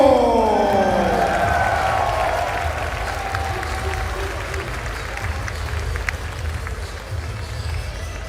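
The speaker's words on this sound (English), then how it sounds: "In 4th place, please cheer for NEMO." An audience at the EVO 2015 fighting-game tournament applauds and cheers in a loud, steady roar that holds throughout, with an announcer's voice at the start.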